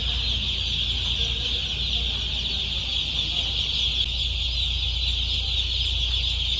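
Young chicks in a poultry control shed fill the air with a dense, continuous high chorus of peeping, close and steady throughout over a low mechanical hum.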